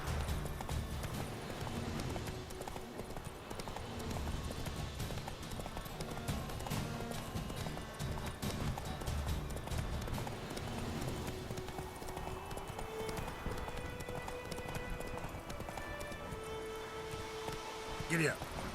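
Roach, a horse in The Witcher 3, gallops with a steady, close clip-clop of hooves that runs throughout, mixed with game ambience and a voice.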